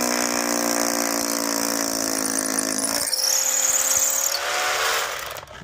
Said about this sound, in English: You notice I'm drilling slowly at first so it doesn't skip around the stone.